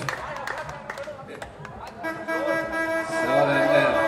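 A horn is sounded during a live rock concert, with sustained horn-like tones swelling over crowd noise and music, following a spoken request in Danish.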